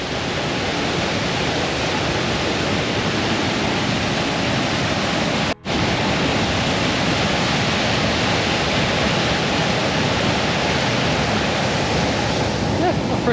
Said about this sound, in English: Do love a good waterfall.